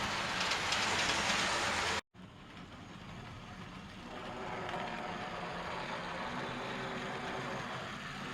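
A model HST train runs along a loft layout, a steady rolling rumble with light rail clatter, briefly cut off then resuming continuously and fairly close.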